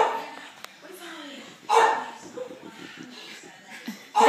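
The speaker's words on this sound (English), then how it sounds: "That's your daddy barking." A dog gives a couple of short, loud barks, one midway and one at the end, while adults and children talk throughout.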